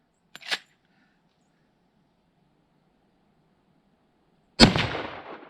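A rifle test-fired at a steel target gives one sharp report at the start, then near silence, and a second loud, close blast whose echo rolls off at the end.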